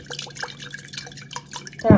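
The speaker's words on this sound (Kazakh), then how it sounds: "Краннан алып тұндырылған алдын ала баклажка болсын, шыны ыдыс болсын, осылайынан су құясыздар" Water drips and trickles in a series of small, close splashes, then a short, louder pour of tap water into a plastic jug or glass jar at the very end.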